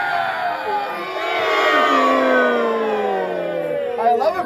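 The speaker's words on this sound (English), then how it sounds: "I love a crowd that boos louder than it cheers." A large live crowd booing loudly, a sustained swelling roar that rises and holds, with a long wavering whistle or siren-like tone gliding through it.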